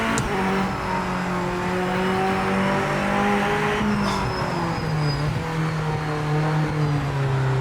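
Race car engine in the Project Motor Racing video game, droning steadily at a sustained pitch that rises and drops with gear changes on an out lap, loud and continuous with no talk.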